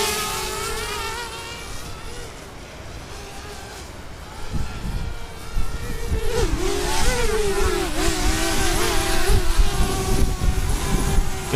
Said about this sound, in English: Those cheap propellers won't even take off.